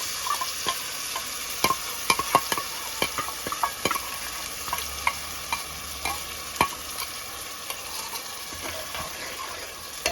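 Masala spice mix with seasoning fries in oil for a chicken curry with garam masala and turmeric. A steady sizzle runs throughout, dotted with sharp clicks and pops from stirring, close and without talk.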